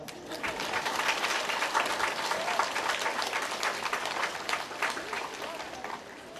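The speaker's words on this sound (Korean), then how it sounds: "박수 받으세요." A crowd outdoors at an elementary school sports day claps steadily, a dense and even patter of applause that holds for several seconds without pause.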